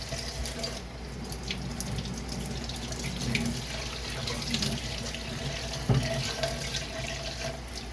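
Water runs steadily from a tap with splashing and faint clinks of lab glassware being rinsed of acid underneath, continuous and close.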